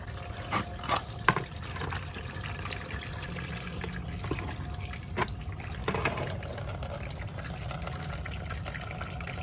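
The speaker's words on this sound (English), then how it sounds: "the coolant below will start literally pissing out" Engine coolant pours and splashes out of the cooling system of an E34 car, a steady, close, trickling gush with scattered drips and clunks running throughout.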